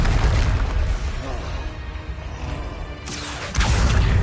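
Confringo fire-blast spell exploding in the video game Hogwarts Legacy: a dense, rumbling burst with a sharp new blast near the end, loud and close, with no talk over it.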